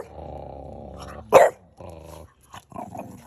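A dog growls low and steadily for about a second, then gives a short sharp bark, followed by more rumbling growls with brief gaps between them, close by and fairly quiet.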